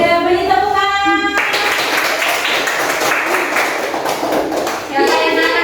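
Students in a Grade 5 classroom break into a burst of dense, fairly close clapping that lasts a few seconds, with singing before and after it.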